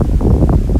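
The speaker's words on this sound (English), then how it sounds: "Oh, wind is blowing." Wind gusting through oak tree branches on a cloudy day in Tokyo, a steady close roar of rushing air and rustling leaves that buffets the microphone throughout the brief moment.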